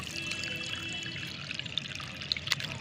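Liquid fertilizer mixed one to one with plain water is strained, giving a continuous close pouring and trickling sound with a few drips near the end.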